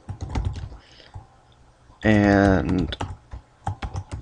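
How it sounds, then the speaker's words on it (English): Typing on a computer keyboard to enter a chat channel name in a web IRC client, heard as scattered quick key clicks around a brief burst of a man's speech. "you just type in Bitcoin-OTC"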